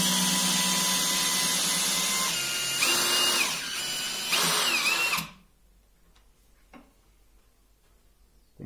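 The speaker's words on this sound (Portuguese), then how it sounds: "a máquina coloca parafuso, né? Como mostrei, de quase 11 centímetros." A DeWalt DCD7771 brushless cordless drill drives a nearly 11 cm screw into a pre-drilled hole, giving a loud, steady whine that shifts in pitch as the speed changes, then stops abruptly after about five seconds, leaving quiet.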